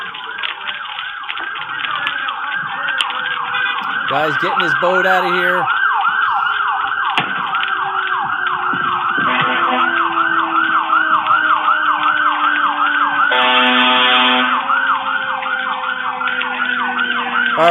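Fire department sirens approach at a fire scene near a boat, loud wailing and yelping tones that cycle continuously, with a brief horn-like blast midway, while someone speaks briefly over them.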